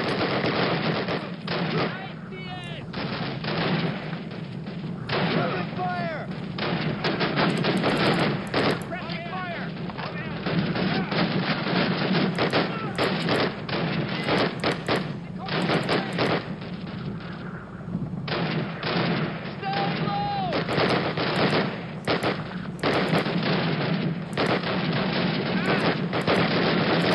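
Sustained battle gunfire in Call of Duty: United Offensive, with rifle shots and machine-gun bursts firing continuously and densely for the whole stretch, loud and near, with brief shouted voices occasionally breaking through.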